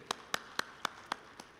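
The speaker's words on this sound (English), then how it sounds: "let's clap hands for him" Sparse, evenly spaced claps from an audience welcoming a speaker at a Zimbabwe labour and employment summit, six sharp slaps in a row, faint and somewhat distant over a quiet room.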